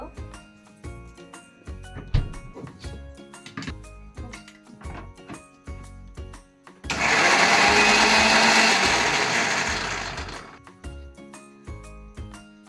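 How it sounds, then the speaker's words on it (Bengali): Yogurt (curd) being beaten for dahi katla, an electric blender whirring loudly for about four seconds after a stretch of kitchen clinks and background music. "আর এখন আমি দইটা ফেটিয়ে নেব"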